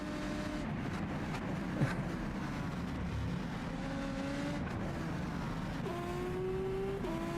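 A racing car engine in a Formula sim racing game at the Canadian Grand Prix drones steadily at full throttle, its pitch rising and dropping through gear changes, with other cars faint behind it.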